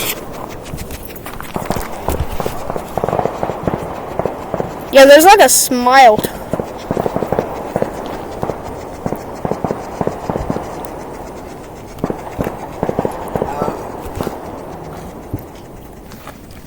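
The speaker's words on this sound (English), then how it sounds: "You guys can probably hear the fireworks." Fourth of July fireworks go off outdoors: scattered pops and one loud crackling, whistling burst in the middle, heard under people talking nearby.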